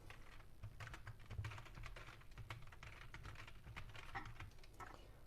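Continuous, rapid typing on a computer keyboard, a faint, steady patter of keystrokes with no pauses and no speech.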